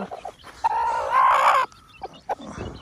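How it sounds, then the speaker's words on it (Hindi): A chicken clucks and gives a sustained, rising call close by, with a few short clucks before and after. "ये छोटे छोटे मुर्गी"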